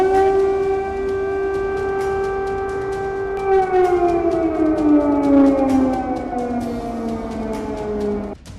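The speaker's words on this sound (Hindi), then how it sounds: "कीव में लगातार मिसाइल अटैक के सायरन बज रहे हैं।" Air raid siren sounding a missile attack warning in Kyiv, a long steady wail with stacked tones that slowly drops in pitch, continuous and loud over the full stretch before cutting off at the end.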